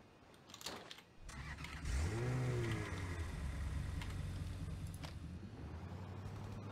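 An armored truck in the game Rules of Survival starts up and drives off, its engine note sweeping upward as it revs and then settling into a steady low drone.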